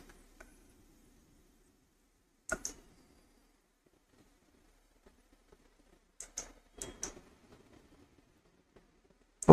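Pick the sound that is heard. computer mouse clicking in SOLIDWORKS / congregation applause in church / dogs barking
computer mouse clicking in SOLIDWORKS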